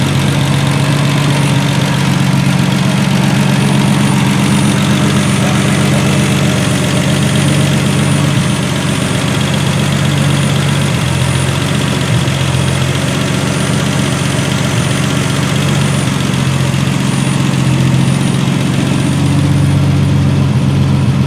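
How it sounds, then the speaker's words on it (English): A 1976 Triumph TR6 engine idling steadily during a restoration, a loud, continuous low rumble with even vibration that holds unchanged for about twenty seconds, heard alone without voices. "Yeah, that engine runs really well."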